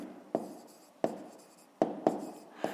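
A pen writes a math solution by hand on paper, giving five short, separate scratchy strokes at an uneven pace, close and quiet, with no talking.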